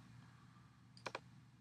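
A computer mouse is clicked on a settings button twice in quick succession, sharp close clicks over a faint steady room hum.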